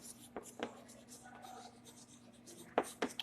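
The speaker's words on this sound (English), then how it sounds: "Listen, formula, I'll write the whole formula." A pen writes out a maths formula, a few faint scratchy strokes and taps close by, scattered over a quiet background with a soft hum.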